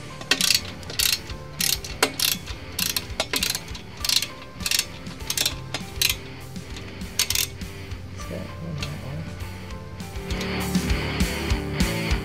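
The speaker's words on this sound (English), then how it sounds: "We'll use a torque wrench as per the instructions to tighten to between 100 and 120 foot-pounds of torque." A torque wrench ratchets in repeated bursts while tightening the head pipe fasteners on a Harley-Davidson Touring motorcycle, the clicks coming in a steady back-and-forth rhythm, close and crisp, with a denser run of clicking near the end and no talk.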